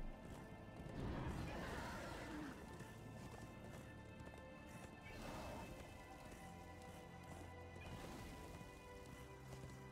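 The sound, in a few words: horse galloping in Darksiders 2 video game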